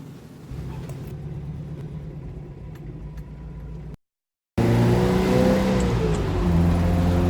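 A 1970 Datsun Roadster with a roughly 100-horsepower engine drives off, its steady engine drone rising as it accelerates through the gears, heard from inside the car with a short silent gap midway.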